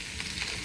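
Fish sizzling in hot oil on a tawa pan, a steady broadband frying hiss lasting under a second with no voices.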